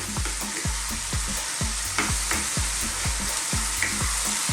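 Chicken fried rice sizzles and crackles in a pan over the highest flame, with steady loud frying broken by rhythmic scraping stirs roughly every half second, alone with no talk.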